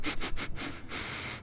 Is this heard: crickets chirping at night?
no